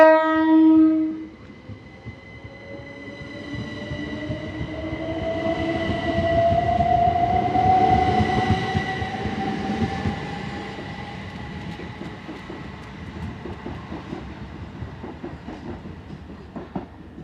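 Train pulling out of Tonbridge station on the South Eastern Main Line in full notch, opening with a short horn blast, then a loud traction whine climbing in pitch as it accelerates away and slowly fades into the distance.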